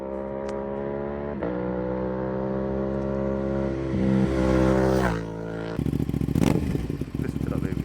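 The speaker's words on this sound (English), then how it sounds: "Number two, the sound of the bike." An Aprilia RS660 motorcycle engine idles with a deep throb, then revs hard a couple of times, the loud rising roar snapping back to a choppy, rumbling idle.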